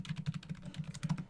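Quick, irregular keystrokes on a computer keyboard while entering router interface commands, a soft rapid clatter of close taps with no talking.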